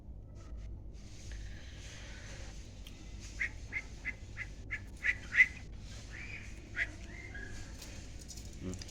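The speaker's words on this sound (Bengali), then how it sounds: "বর্তমান আমাদের কাছে এই চারটি পাখি আমাদের কাছে আছে" Four pet budgerigars in a home cage give a run of short, bright chirps and squawks in the middle stretch, clearly heard over a low, steady background hum.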